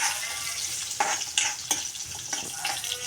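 Six or seven green chillies fry in a pan for a fenugreek-tomato chutney. A bright, dense sizzle runs throughout, broken by several sharp spatula strokes against the pan, close up and with no talking.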